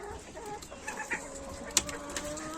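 Chickens in a coop, a mix of Isabella and silver breeds, clucking softly with a few brief sharper calls, faint and close, over a low steady background with no speech.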